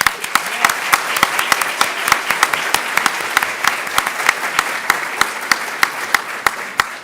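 Audience applause for Congressman Raul Ruiz at a morning address, a steady crowd clapping for about seven seconds with sharp individual claps standing out, fairly close and even in level.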